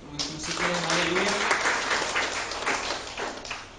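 Congregation applause during a church sermon, a dense steady wash of clapping filling the space for several seconds with a voice speaking over the start.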